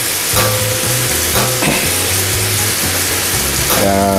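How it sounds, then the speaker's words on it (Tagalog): Chicken thighs simmer in chicken broth in a pan, giving off a dense, steady bubbling sizzle that runs throughout, with a few brief clinks and stirring scrapes close by and no talk. "simmer lang po natin ang ating chicken thai ng 2 to 3 minutes"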